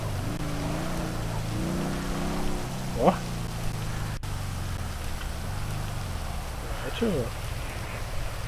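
Steady rain-like hiss from rain in GTA 5 roleplay runs throughout with low engine rumble, while a voice speaks briefly near the start.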